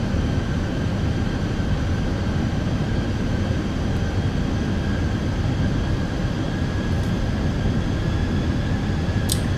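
Fenix airliner in Microsoft Flight Simulator 2020 rolling out after landing at Belfast City, a steady broadband roar of engines and runway rumble with faint whining tones, continuous and even throughout.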